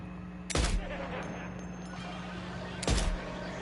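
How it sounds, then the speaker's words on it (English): Two loud, sharp sniper rifle shots fired without a suppressor in Death Stranding 2, spaced a couple of seconds apart, each a sudden crack with a short tail over a low background hum. "That sniper rifle doesn't appear to be equipped with a suppressor, meaning it will make considerable noise when fired."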